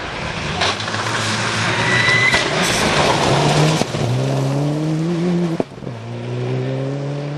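A Subaru rally car at the Cambrian Rally 2013, a BTRDA championship event, revs loudly and close by, its engine note climbing through repeated gear pulls with short breaks between them.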